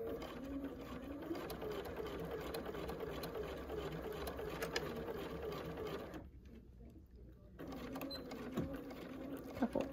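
A sewing machine stitches a quilt block, its steady fast mechanical hum running near and continuous, then stopping briefly for a pause before resuming, with a few light clicks toward the end.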